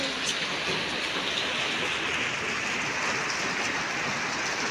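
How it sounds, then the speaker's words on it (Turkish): Steady rain falls outdoors, a dense, even hiss of drops spattering on surfaces that stays constant and fairly loud throughout, with no voices heard. "Güzel bir yağmur yağıyor"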